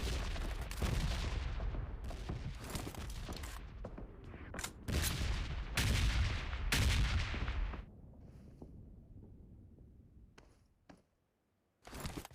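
Gunfire in the mobile battle-royale game PUBG Mobile: loud rapid bursts and single shots crack in quick clusters, then thin out to a few scattered, quieter shots before a short silence and one final burst.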